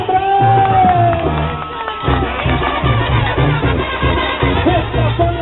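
A crowd at a jaripeo bull riding event cheers, whoops and shouts loudly and continuously, a dense roar of many voices with scattered clapping, close and energetic.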